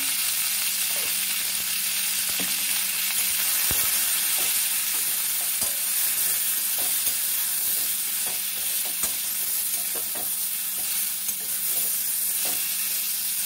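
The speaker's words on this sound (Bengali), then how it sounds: "এটাকে একটু ভেজে নেব। হলুদ দিচ্ছি একটু, একটা স্পুন হলুদ দিয়ে দিলাম।" Turmeric frying in a pan with star fruit for a sweet-sour pickle, giving a continuous bright sizzle and hiss up close, broken by occasional stirring clicks and scrapes of the spoon.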